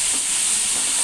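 Ginger and garlic masala paste hitting hot oil in a pan, a loud, dense, continuous hiss and sizzle for a brief moment with no talking.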